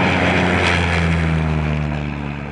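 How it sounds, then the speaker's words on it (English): A military drone aircraft taking off: a loud, steady propeller and engine drone with a strong low hum, close and sustained throughout, no voices. "Okay, now he's pulling up on the nose, getting ready for takeoff."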